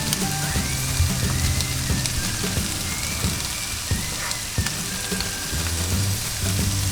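Salmon sizzles and fries steadily in a hot pan, a dense continuous crackle with occasional clinks of a utensil stirring, close by and alone without voices.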